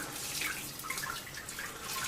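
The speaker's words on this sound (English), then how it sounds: "so 2 litres of sparge water, and all we're going to do is just pour this into the top." Two litres of sparge water poured from a jug into the top of a Robobrew v3 malt pipe during an all-grain brew, a steady close splashing trickle running throughout without pause.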